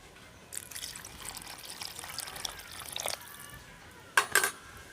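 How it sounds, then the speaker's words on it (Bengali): Water is poured into a potato and pea curry in a pot, a soft trickling pour over a few seconds, then a couple of louder splashes near the end. "আমি আরও একটু জল দিয়ে দেবো এর মধ্যে।"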